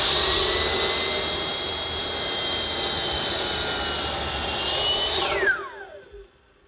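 A power saw runs loud and steady, cutting a bevel along a wooden desk top, its high whine holding for about five seconds before the blade spins down and fades away alone.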